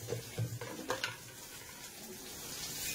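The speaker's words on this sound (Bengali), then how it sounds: "তেলের মধ্যে লঙ্কা আর ইয়ে দিয়েছি, কি বলছি, সর্ষে দিয়েছি, দিয়ে আমটা একটু ভাজছি" Mango pieces sizzle softly in hot oil with green chili and mustard seeds, a faint steady hiss with a few stirring clinks near the start.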